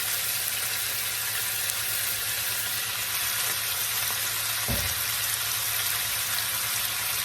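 Chicken for caldereta fries in hot oil with a loud, continuous dense sizzle that holds steady throughout, with one brief scrape partway through.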